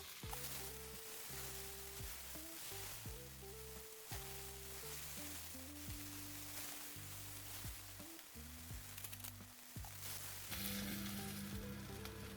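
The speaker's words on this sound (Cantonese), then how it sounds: "煎到咁上下，我哋可以落埋啲蒜同埋乾葱落去。" Pork belly fries in a cast iron pot with a quiet, steady sizzle throughout, under low background music.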